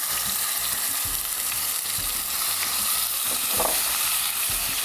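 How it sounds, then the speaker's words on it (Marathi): Onion, coconut, ginger and garlic paste fries loudly in a pan, a dense continuous sizzle with stirring scrapes, close and without talk. "आता आपण त्याच्यामध्ये हे कांदा, खोबरं, आलं, लसूण पेस्ट आहे ना त्याच्यात, ते आपण टाकूया."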